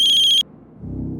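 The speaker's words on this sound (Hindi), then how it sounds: "सनी के राजकोट वाले घर की लैंडलाइन से फोन है।" A landline telephone rings in one short electronic trill that stops abruptly, followed by a low muffled background rumble.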